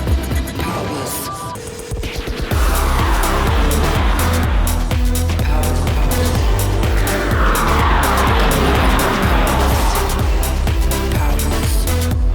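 An Audi on a race track revs and accelerates hard, tires squealing through skids as the engine roars loudly and continuously after a brief quieter opening.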